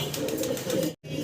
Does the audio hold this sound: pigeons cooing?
yes